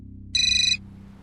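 A short electronic phone ringtone plays once, a bright tonal chirp lasting under half a second over a low steady hum.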